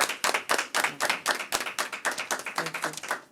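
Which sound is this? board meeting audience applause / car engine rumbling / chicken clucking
board meeting audience applause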